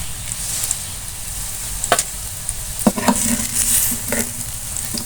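Gourd and cauliflower chops frying in hot oil, a steady close sizzle with a few stirring and utensil scrapes, no talking.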